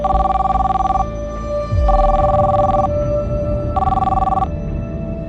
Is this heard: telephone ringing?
yes